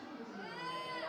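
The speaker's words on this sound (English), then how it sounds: "if you think Veronica won, let's hear you cheer" A convention panel audience at MCM Birmingham cheers and shouts, a dense crowd roar that holds steady and swells slightly toward the end, loud and close, with children's voices in the mix.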